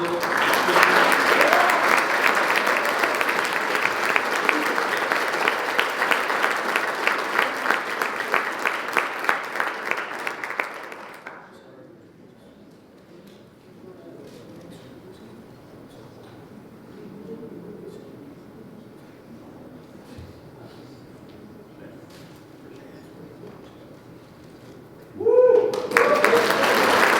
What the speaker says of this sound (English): I'd like to we give a big round of applause.